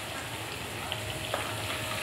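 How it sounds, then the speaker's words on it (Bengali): Ghee sizzles in a pan of ridge gourd poppy-seed curry, a soft, steady crackle and hiss that holds evenly throughout with no voices. "এখানে আমি 1 চামচ ঘি দিয়ে দিচ্ছি।"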